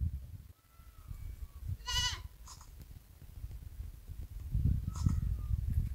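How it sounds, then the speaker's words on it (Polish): A goat perched high in a tree in Morocco, near Tafraoute, gives two short, wavering bleats a few seconds apart over low rumbling background noise. "Na drzewie wysoko siedzi koza."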